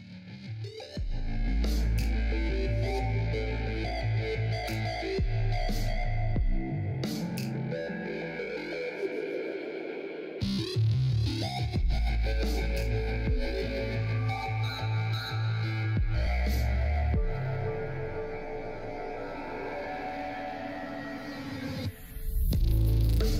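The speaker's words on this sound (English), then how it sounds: "So I'm going to crank the audio, that way you can see the audio reactivity and its full effect." Audio-reactive Resolume effect stack with Trails, driven by loud distorted electronic music with heavy bass throbs and buzzing effects that play continuously, briefly dropping out near the middle before surging back.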